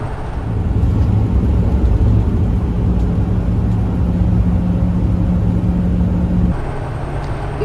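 Steady, loud engine and road rumble from inside a Lazy Daze RV cruising along a highway, continuous and close, easing off slightly near the end.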